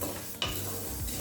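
Lentils dry-roasting in a pan with no oil, a faint brief rustle and scrape as they are stirred, with one sharper stroke midway.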